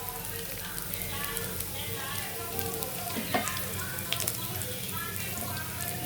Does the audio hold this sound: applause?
no